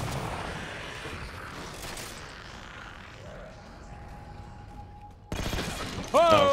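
Gunfire in Halo 4 multiplayer, a steady roll of game gun noise and weapon effects that builds to louder bursts near the end, with a thin electronic tone threading through the middle.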